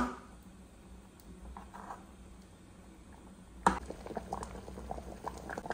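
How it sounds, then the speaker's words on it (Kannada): A pot of Malabar spinach curry boils steadily, with a low bubbling rumble and a sudden louder burst of spluttering bubbles partway through, then livelier popping. "ಒಳ್ಳೆ ಕುದಿ ಬರ್ತಾ ಉಂಟು."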